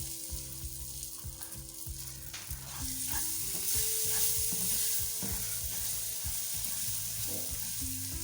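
Dry fruits roast in semolina halwa: sizzling fat under repeated scraping stir strokes, growing louder a few seconds in and continuing steadily without speech.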